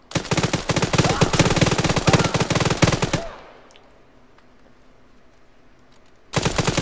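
Rapid bursts of automatic gunfire in the military shooter Arma 3, loud and dense for about three seconds, then a quiet lull before firing resumes abruptly at the end.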